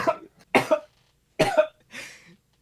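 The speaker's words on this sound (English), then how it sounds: "I'm coughing up my heart." Several harsh coughs come in separate bursts, close and fairly loud, with short pauses between them.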